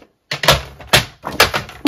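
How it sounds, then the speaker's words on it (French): A few short, sharp slicing and clacking sounds in quick succession, close by, like a paper trimmer blade cutting through a sheet. "on prend son coupe-papier"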